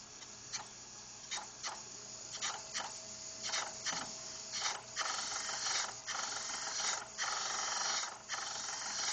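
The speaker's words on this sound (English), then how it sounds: "For the initial cut, we're going to put a rough dress on the wheel to hog the material off." A grinding wheel with a rough dress cuts a larger profile into a stock Toyota 20R/22R camshaft, giving a steady whirring grind broken by repeated rhythmic bursts as each lobe passes the wheel. No one speaks.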